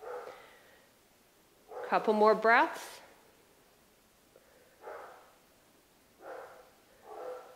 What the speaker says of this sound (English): I don't know if you can hear my dogs. They're going crazy in the backyard.